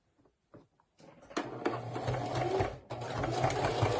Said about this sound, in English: you're going to just do a straight stitch right across the edge